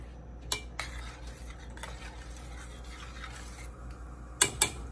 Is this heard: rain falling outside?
no